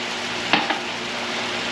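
Wine stirred into braising vegetables for venison osso bucco, a steady close sizzle of liquid in a hot pot with two brief scraping strokes of the spoon, and no talking.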